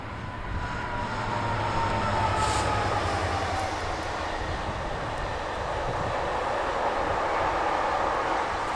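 A GBRF Class 66 locomotive hauling a freight container train through the East Midlands, a steady rumble of wagons rolling past with faint wheel squeal, moderately distant and continuous.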